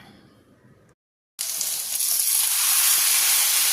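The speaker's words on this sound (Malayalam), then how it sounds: "ഇനി നമുക്ക് ബീഫ് അതിലേക്ക് ഇട്ട് കൊടുക്കാം." Beef tipped into a hot pan already holding coconut and capsicum for a thick-gravy beef curry: a near-silent gap, then a sudden loud hissing sizzle that swells and holds steady, close and without voices.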